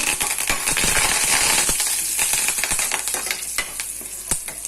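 Curry leaves fry in hot oil for a gorugchikkudu (cluster bean) tempering, giving a bright, continuous sizzle close up, broken by sharp crackles and pops, with occasional clinks of a stirring utensil against the pan.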